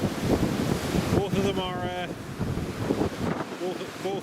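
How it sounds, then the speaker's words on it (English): Strong gusting wind from Storm Otto at Newcastle International Airport, with gusts around 60 mph, roars and buffets steadily at close range, with brief tonal whistling partway through and low rumble underneath. "60 odd mile an hour gusts"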